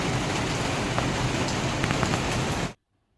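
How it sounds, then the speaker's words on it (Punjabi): Steady rain pours down in a dense, continuous hiss with occasional sharper drop taps, loud and close, then cuts off abruptly. "ਮੌਸਮ ਹੋਇਆ ਤਾਂ ਖਰਾਬ ਅੱਜ ਬਾਰਿਸ਼ ਹੋਈ ਪਈ ਹੈ"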